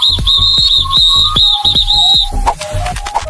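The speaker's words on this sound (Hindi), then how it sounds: "सीटी बजाकर कैप्टन ने उसे दोबारा लाइन में लगा दिया" A whistle is blown sharply in a row of short shrill blasts, loud and close, followed by a few softer bursts of whistling with no talk.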